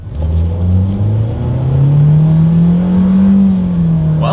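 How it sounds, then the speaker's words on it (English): A 2022 Nissan Kicks with a CVT accelerates in sport mode, a loud, steady engine drone that climbs gradually in pitch without breaks. No one speaks. "let's see how quickly we can get our new 2022 Kicks here up to speed"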